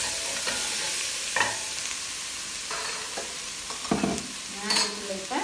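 Onions sautéing in a pan for kulai sadham, stirred with a few scraping strokes over a soft steady sizzle, close up with no talking.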